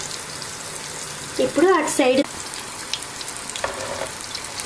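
Purnam burelu, sweet stuffed fritters, fry in oil in a pan over medium heat with a steady soft sizzle throughout, while a voice speaks briefly over it in a kitchen.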